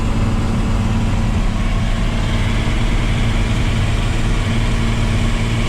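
A Cummins-engined truck drones along a four-lane road, its engine a loud, steady low rumble with constant road noise and no pauses.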